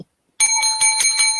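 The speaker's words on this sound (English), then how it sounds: "Ring a bell." A bell is rung several times in quick succession, bright ringing strikes following one another after a moment of silence, loud and close.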